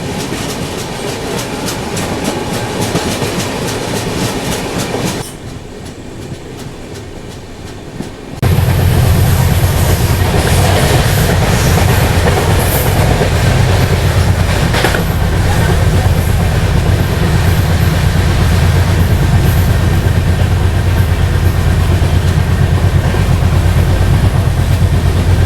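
Kacheguda to Nagercoil passenger train running steadily, loud and close, with continuous rumble and clickety-clack of wheels; a quieter dip in the middle before the full roar returns.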